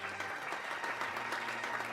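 Applause from an audience at an arts event in Santa Maria, heard as a steady, moderately loud wash of clapping with a low hum underneath and no voices over it.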